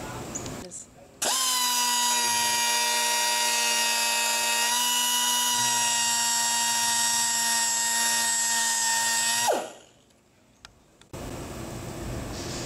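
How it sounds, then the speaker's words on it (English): A power grinder cuts steadily into the steel pin heads of a Ramsey silent chain with a washer connection, a loud sustained whine lasting several seconds before spinning down, followed by quieter workshop noise. "Grind off both pin heads at a side length."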